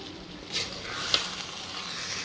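A brief, soft sizzle of tempering spices hitting hot oil for lemon pickle, a steady hiss with a couple of small pops.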